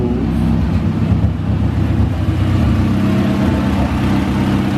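Honda H22 engine idling smoothly after a vacuum leak was repaired, a steady close mechanical hum with even low-pitched firing pulses and no talking.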